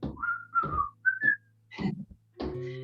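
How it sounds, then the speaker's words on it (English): Someone whistles a short, halting tune of a few sliding notes, broken by breaths and small mouth sounds. "You can even whistle if you'd like."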